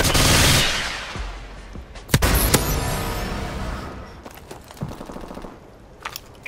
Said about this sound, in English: Friendly missile strikes incoming.